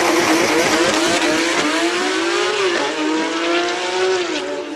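A race car on a hill climb run, its engine loud and close, revving high and steady with rising and falling pitch as it shifts and pulls uphill, no talk over it.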